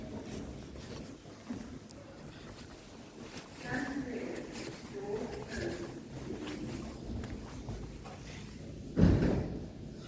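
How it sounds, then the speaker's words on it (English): Train doors opening at a Harrow railway station platform: soft mechanical rumbles and slides build under a low, murky platform ambience, ending in a heavy close thud near the end. "Doors open."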